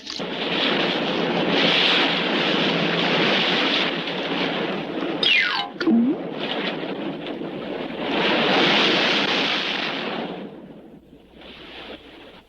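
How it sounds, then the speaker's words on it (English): Cartoon ocean surf of a tidal wave crashes and rushes in loud, sustained surges with wind-like noise. A short swooping effect cuts through the middle, and the noise fades near the end. "Tidal wave."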